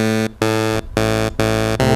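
Three analog oscillators on a Thor synth in Reason, low pass filter opened up, play a loud, bright, harmonically rich tone in five short choppy notes separated by brief gaps.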